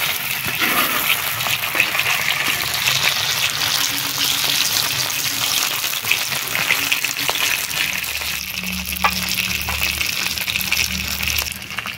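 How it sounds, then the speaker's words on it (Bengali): Fish caught from a pond sizzling as it fries in a pan, a loud, continuous crackling hiss with occasional stirring scrapes and bubbling over the whole stretch, no voices heard. "মাছটা কিন্তু খুব সুন্দরভাবে ভাজা হয়ে গেছে"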